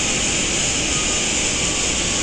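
Steady, loud roar of Boeing 737-800 jet engines in the X-Plane 10 flight simulator, a continuous broadband rush with no breaks and no voices.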